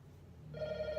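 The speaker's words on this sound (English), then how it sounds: "Sorry, the phone's gonna ring." A telephone bell starts ringing about halfway through, a bright sustained ring with buzzing overtones, fairly close, following a brief low hum in an otherwise quiet room.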